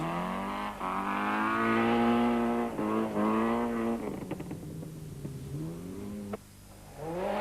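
A 2-wheel drive Class A Volkswagen Golf rally car engine revs hard on a mountain trail rally stage, a loud sustained drone that rises and falls through gear changes, ending with a sharp drop in pitch as it eases off.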